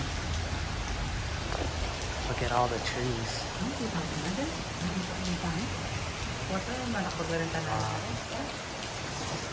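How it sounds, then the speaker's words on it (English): Heavy rain hisses steadily and loudly throughout by a pool, with people talking under the downpour. "it is raining hard"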